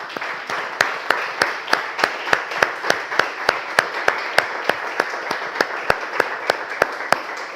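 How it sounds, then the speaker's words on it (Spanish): A church congregation claps steadily in a fast, even rhythm, sharp beats ringing out over a dense wash of hands for several seconds, with no talking. "Démosle un aplauso al Señor."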